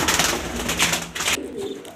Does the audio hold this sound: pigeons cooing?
yes